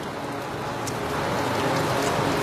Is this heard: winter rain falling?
yes